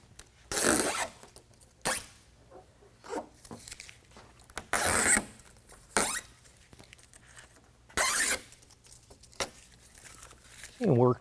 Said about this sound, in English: start peeling away the adhesive protector